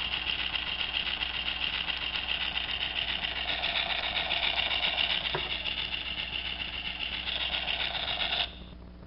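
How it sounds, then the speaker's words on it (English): Electronic engine powering-up effect from a Transformers Ultra-class Decepticon Skyfall toy, a steady buzzy hum through a small speaker that rises slightly in pitch, then cuts off abruptly near the end. "the engine powering up sound"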